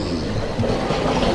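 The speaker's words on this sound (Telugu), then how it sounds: "పక్కన ట్రైన్ గోల తప్ప మరో గోల లేదండి మనకి." A train rumbles past close by, a steady loud roll of wheels and rail cars with a faint clickety-clack running through the whole short stretch, no voices over it.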